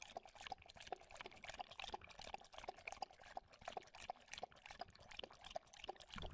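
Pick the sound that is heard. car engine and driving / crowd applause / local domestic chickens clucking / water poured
water poured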